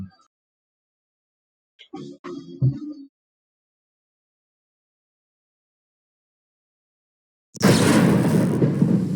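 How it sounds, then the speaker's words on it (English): Rain and thunder from the video game Pathfinder: Kingmaker arrive after near silence and a brief muffled thud, swelling abruptly into a loud, steady wash of rumbling storm noise that continues to the end. "Oh god, it's raining."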